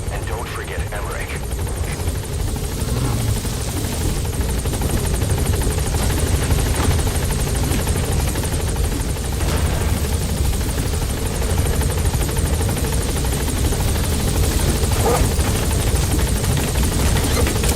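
Support helicopter in the video game Metal Gear Solid V: The Phantom Pain touching down, a steady loud rotor drone and engine roar running throughout, with a voice talking over it.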